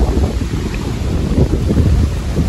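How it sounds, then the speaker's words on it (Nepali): Warm wind blows hard across the microphone outdoors in Port Louis, a loud, steady roaring rumble with no pauses throughout. "हावा चाहिँ मजाले चलिरहेछ तातो हावा फालिरहेछ"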